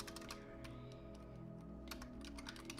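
Quick bursts of keystrokes on a computer keyboard, clustered clicks at the start and again near the end, quiet and close over a low steady background hum.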